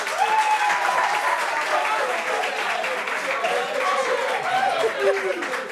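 Audience applause at a French televised discussion on youth unemployment, a dense steady clapping wash that runs the whole time, mixed with scattered chuckles and crowd chatter.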